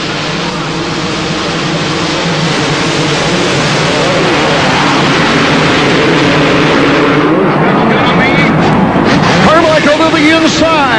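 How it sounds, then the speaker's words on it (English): A loud, dense roar of supercross motorcycle engines revving together at the starting gate in the EA Sports Supercross video game, at the San Diego round of AMA Supercross 2001. The sound is continuous and filling, with a voice talking over it. "engines rev up, and the gate will drop anywhere from 5 to 10 seconds after it goes sideways"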